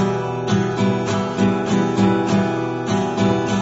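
An acoustic guitar strummed chords in an even, steady rhythm, down and up strokes evenly spaced, close and clear with no voices.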